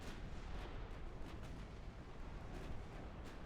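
Torpedoes exploding in the naval game Ultimate Admiral Dreadnoughts: a dense, rumbling wash of distant blasts with scattered sharper pops, steady and fairly faint, no voices.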